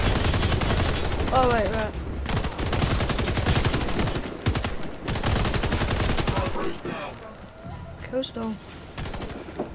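Rapid automatic gunfire as a weapon is sprayed in the shooter game WarFace: dense, continuous bursts dominating the scene, with a player talking over the shooting.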